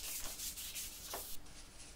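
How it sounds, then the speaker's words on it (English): A staircase handrail being hand sanded with 1000 grade sandpaper, steady close rubbing strokes with a hissy grit texture and quick back-and-forth rhythm, heard alone. "So I'm using 1000 grade sanding paper"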